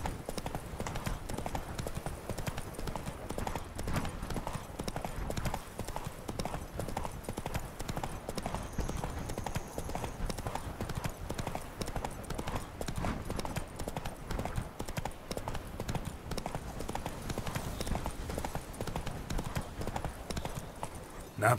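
Roach, a horse in The Witcher 3, galloping in quick rhythmic clip-clop hoofbeats that run steadily and fairly softly for the whole stretch, with no voices.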